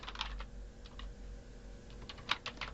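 Fingers tapping on a computer keyboard while entering data into a spreadsheet, a steady run of light close clicks with one sharper keystroke, alone against a low electrical hum.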